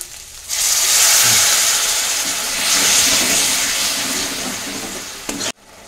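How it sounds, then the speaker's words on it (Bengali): Hot water poured into spices frying for a chicken curry sets off a loud hiss and sizzle that rises sharply, holds with bubbling and stirring, then fades before stopping abruptly. "তো আমি পাশে জল গরম করে নিয়েছি, গরম জল দিয়ে দিচ্ছি একটুখানি।"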